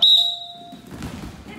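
A coach's whistle gives one sharp, loud, short blast during a wrestling drill, followed by thuds and shuffling on the mat.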